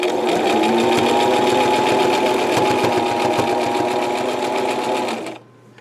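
A home sewing machine runs a zigzag stitch along the raw end of dress fabric to keep it from fraying. It whirs in a fast, steady mechanical rhythm, close and loud, for several seconds before stopping abruptly.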